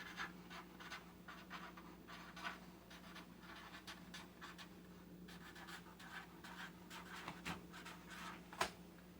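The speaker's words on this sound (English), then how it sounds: "I write it on the top and then I write it on the side as well." Marker scratching out labels on dry goods storage containers, a busy run of short scribbling strokes, faint and close, over a low steady hum.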